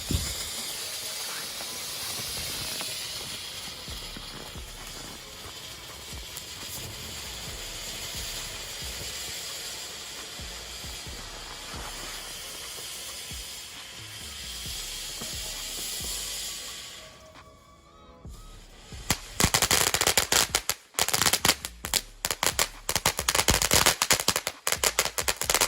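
TNT Fireworks' Purple Rain fountain, a California Safe & Sane firework, sprays a continuous loud hiss for around seventeen seconds, dips briefly, then breaks into bursts of rapid crackling and popping.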